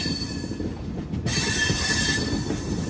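Visakha Express passenger train rolling along a single-line track between Bhimavaram and Vijayawada, a steady loud rumble of wheels on rails with a sharp hiss that swells midway and stays constant, close and continuous with no talk.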